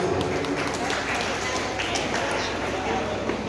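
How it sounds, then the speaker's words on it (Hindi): Applause welcoming a guest at a hospital-sponsored community event, a steady dense clatter of many hands clapping together that continues evenly throughout. "जोरदार तालियां से।"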